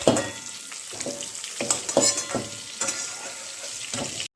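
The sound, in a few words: eggs frying in a pan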